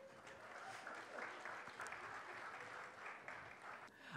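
A short burst of steady clapping from a comedy show audience, moderately loud and continuous.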